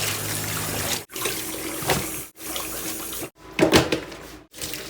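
Tap water runs into a kitchen sink as a whole fish of just over a kilogram is rinsed, a continuous splashing stream broken by a few brief stops, close by with no voices.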